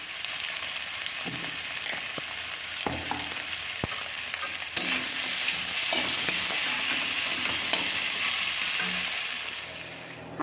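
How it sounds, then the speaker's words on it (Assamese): Sliced eggplant frying in a pan gives a steady, close sizzle with occasional sharp clicks and scrapes of stirring, continuing without any voices. "এনেকৈ কৰি আমি ফ্ৰাই কৰিম"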